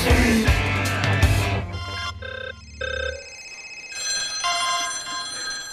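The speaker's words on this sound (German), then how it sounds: "The smartphone. The smartphone." A telephone-style ringtone from a smartphone rings at close range, with bright repeating tones in short bursts over a musical background.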